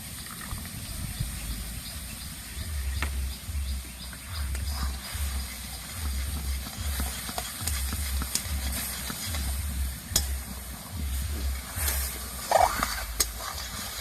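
Pure coconut oil with bhringraj herbs boiling in a pan for homemade hair oil, a steady bubbling hiss with a regular low pulsing throb running through it, close and continuous with no talk.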